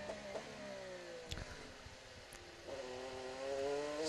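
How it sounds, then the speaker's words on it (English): An IndyCar engine backs off the throttle and coasts into corners: falling engine whines with short blips and downshifts, heard faintly and at a distance, then rising again as the throttle reopens. "You hear him backing off the throttle, coasting into the corners, saving his brakes"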